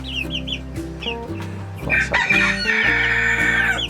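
Chickens cluck close by in short bursts, with a rooster crowing loudly partway through over the farmyard clucking.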